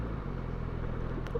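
Suzuki Bandit motorcycle bumping over a corrugated dirt road, a steady rumbling engine drone with rapid juddering under heavy wind noise, close and constant.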